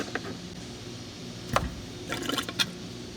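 A Delorean engine being filled with fluid while air is purged from the top hose, heard as faint, scattered gurgles and liquid splashes, with a few brief louder bursts over a low background hum.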